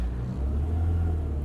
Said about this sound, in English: we're stuck over here in Bangalore traffic